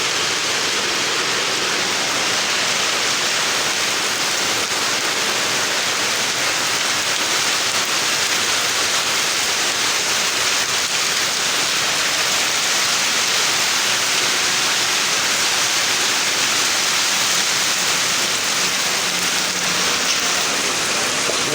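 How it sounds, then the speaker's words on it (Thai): Steady rain falls outdoors in a continuous, even hiss with soft patter on surfaces, holding at the same loudness throughout with no voices. "ฝนเริ่มตกแล้วเนี่ย"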